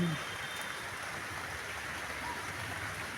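Rain falling outdoors on a rainy day, a steady, even wash of noise that holds without variation and sounds fairly close.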